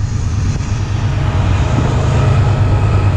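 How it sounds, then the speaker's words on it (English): Norfolk Southern train passing by the tracks in North East, Pennsylvania, a loud, steady low rumble close at hand that holds for the whole stretch, with no talk. "Comes the Norfolk Southern train."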